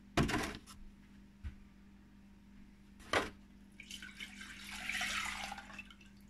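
Milk and cream are poured into a pot on the stove for a peanut butter cream pie, with a few close clunks followed by a soft, brief splashing pour under a faint steady hum.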